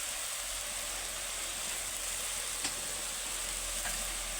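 Spices including chilli powder and salt fry in oil in a pan for a mustard fish curry, a dense, steady sizzling hiss with a couple of faint stirring scrapes, close and continuous, no talking.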